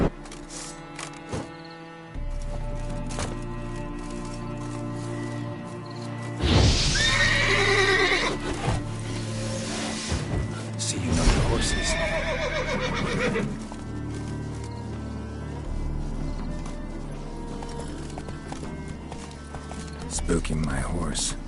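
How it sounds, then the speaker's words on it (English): Roach, the horse in The Witcher 3 video game, whinnies loudly twice amid clip-clopping hooves, with a game soundtrack and voices around it. "Spooking my horse. Roach doesn't like ghosts."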